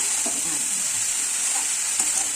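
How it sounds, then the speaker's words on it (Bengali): Khesari greens being stir-fried in a pan give a steady, close sizzle with light scraping and stirring on top, continuous throughout with no voices. "এইভাবে কিছুক্ষণ নাড়তে নাড়তে শাকটা ভাজা ভাজা হয়ে যাবে।"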